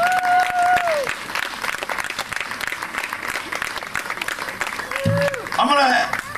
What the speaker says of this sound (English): One more time, clap your hands for the Lord